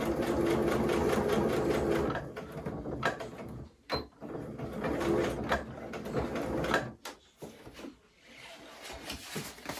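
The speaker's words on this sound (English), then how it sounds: "I'm sewing both sides at the same time" A sewing machine stitches through layers of a handmade mushroom-shaped journal in quick rattling bursts, stopping and restarting several times with short pauses between runs, heard up close and alone.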